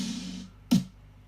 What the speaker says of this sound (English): a hard snare, right, which sounds like this